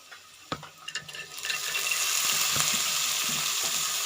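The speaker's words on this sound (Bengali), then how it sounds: "নেড়ে দিয়ে কয়েক মিনিট 1 মিনিট অপেক্ষা করবো যাতে পেঁয়াজগুলো আমার ভালোভাবে লাল হয়" Chopped onions fry in a pan for a bitter gourd (karela) stir-fry, with a few scraping stirs at the start before a steady loud sizzle takes over and holds to the end.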